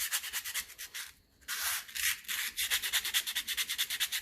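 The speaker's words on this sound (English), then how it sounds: "So I get in there with the Dremel and a few different sizes of wire brush" A Dremel fitted with a wire brush polishes a brake part from a 1954 Ferguson TEF 20 diesel tractor, giving close, bright scratchy rasping in quick pulsing strokes with a short pause before a steady rhythmic run and no talk.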